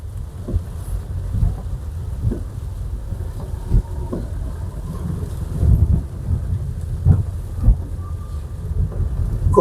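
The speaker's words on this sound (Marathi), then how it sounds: "खूप जबरदस्त पाऊस चालू आहे." Heavy rain pounds steadily near the Nilwande dam site while low thunder rumbles and thuds break through at intervals, a dense, loud downpour with no one speaking.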